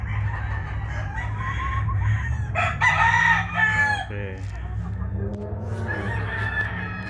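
Imported chickens and roosters on a breeding farm cluck and crow, with several loud, drawn-out crows rising over a steady low background hum and scattered clucking.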